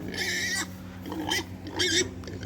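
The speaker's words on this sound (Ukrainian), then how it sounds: "Ловимо свиней по всьому двору." Small pigs in a farmyard give several short oinks and squeals in quick bursts, close and fairly loud, as they are chased and caught.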